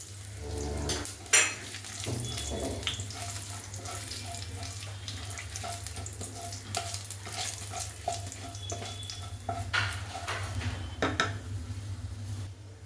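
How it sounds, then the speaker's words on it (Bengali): Whole garam masala spices, including black pepper, nutmeg and mace, crackle as they fry in hot oil for a masala chicken, with steady close sizzling broken by clinks and scrapes of a utensil against the pan. "সব নিয়ে গোটা গরম মশলাটা ফোড়ন দিয়ে দিলাম একটু ভাজা ভাজা করে নেবো"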